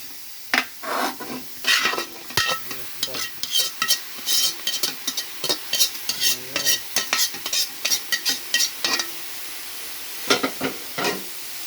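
A utensil stirs jackfruit stew, ginataang langka, in a cooking pot, making a steady run of scraping, clattering strokes that repeat in a quick, even rhythm, loud and close, with no talk.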